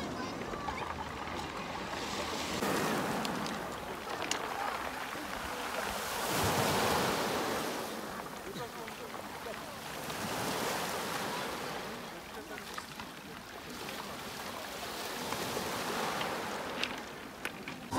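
Sea waves wash onto a beach in slow, swelling surges that rise and fall every few seconds, joined by steady wind rumble on the microphone and no talk over the surf.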